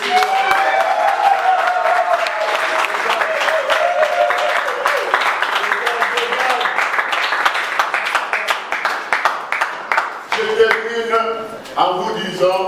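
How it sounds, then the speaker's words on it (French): An audience at a peace ambassador event claps steadily and fairly loudly for about ten seconds, mixed with crowd noise and cheering. Near the end the clapping thins out as voices come through. "Et je vous demande de vous applaudir."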